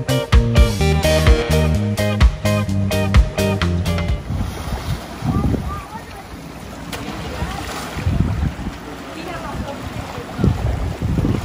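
A trimaran sails the open ocean toward the Bahamas after a storm. Music plays for the first few seconds, then a steady rush of wind and water takes over with occasional louder wave splashes.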